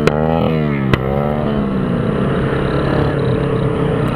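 Motorcycle engines on a group ride toward Serra Dona Francisca, one revving up and then dropping in pitch as it passes close by, over a continuous loud engine drone.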